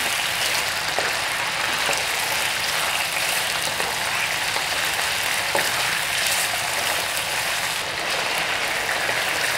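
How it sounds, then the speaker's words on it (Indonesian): Chicken stir-frying in oil in a pan sizzles steadily and densely throughout, close and fairly loud, with occasional faint clicks of stirring and no talk. "Sekarang kita tumis dulu ayamnya."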